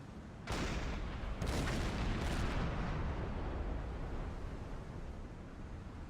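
A submarine's deck gun fires at a burning ship in a U-boat patrol video game, giving a couple of heavy booming blasts with a long rumbling decay and no talking.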